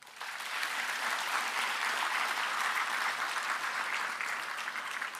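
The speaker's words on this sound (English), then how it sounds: "Let's give every graduate here today the applause they deserve." Sustained applause from a large audience at a college graduation ceremony, a dense, even wash of clapping that holds steady throughout.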